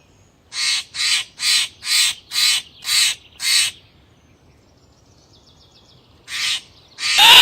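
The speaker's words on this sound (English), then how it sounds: "The blue jays showed up again." Blue jays call at a picnic table at a rainy Oregon coast campsite: a run of seven harsh, evenly spaced squawks, then a pause and two more, loud against quiet surroundings.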